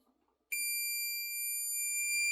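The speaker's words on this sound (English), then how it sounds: "We're going to set our multimeter to continuity, which looks like the sideways Wi-Fi symbol." Multimeter continuity beep during a test across the timing motor terminals of a Speed Queen electric dryer: after a short quiet start, a single sustained, piercing electronic tone sounds close and clean until the end.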